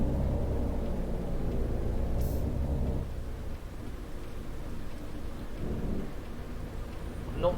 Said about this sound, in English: I think this has probably one of the best rain effects I've seen in a game.